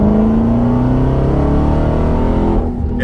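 A car pulls hard in third gear from about 30 toward 40 at very low engine RPM, a loud, close, deep droning hum rising slightly in pitch before abruptly dropping away near the end.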